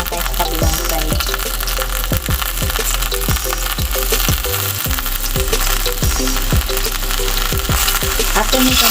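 Fish sizzles and crackles steadily in hot oil, a loud continuous hiss with recurring thumps from the pan.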